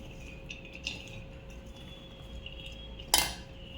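A spoon mixes spiced rice (karam rice) in a dish with soft scraping under steady background hiss, then one sharp metallic clink near the end.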